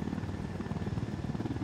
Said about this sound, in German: Was ist denn das jetzt mit dem Hubschrauber dann?